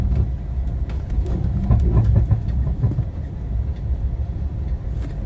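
An automated pod car at London Heathrow Terminal 5 glides along its guideway, a steady low rolling rumble with light rhythmic clicks of wheels over track joints, heard from inside the vehicle.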